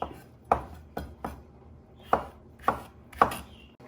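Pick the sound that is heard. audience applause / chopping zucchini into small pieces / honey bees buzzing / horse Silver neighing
chopping zucchini into small pieces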